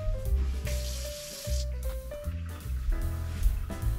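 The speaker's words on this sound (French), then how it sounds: "il faut rincer notre riz dans la passoire" Rice is rinsed in a strainer under running tap water at a campsite, with wet sloshing, splashing and scraping mixed with a few brief tonal clanks, close and irregular.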